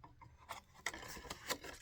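Scissors or a paper trimmer cut along the edge of card stock for a handmade fun fold greeting card, giving several short raspy strokes close to the mic, with quiet pauses between them and no talking.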